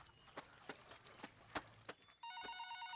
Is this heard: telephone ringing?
yes